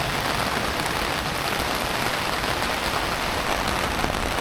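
Heavy rain pours steadily onto a city street, a dense, loud hiss of drops striking pavement throughout with no pauses.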